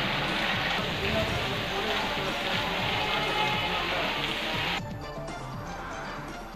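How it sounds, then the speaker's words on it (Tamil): Heavy rain and strong wind lash the Cuddalore coast as Cyclone Nivar makes landfall at night, a loud, dense, continuous roar of rainfall that drops slightly in intensity near the end. "அங்கு பலத்த காற்றுடன் கனமழை பெய்தது"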